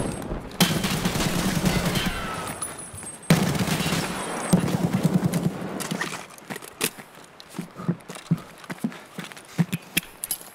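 A PPSh submachine gun fires in the video game Escape From Tarkov. Two long, loud automatic bursts come first, followed by shorter scattered shots and clattering footsteps.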